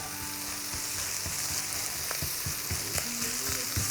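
Italian sausage fries in a pan with a steady, close sizzle, punctuated by light scraping and stirring taps, with no one talking.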